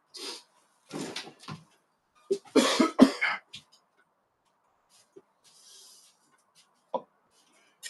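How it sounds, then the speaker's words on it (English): A person with a lingering cough coughing several times in quick close bursts, followed by quieter scattered sounds and long pauses. "Got a little cough from getting over something."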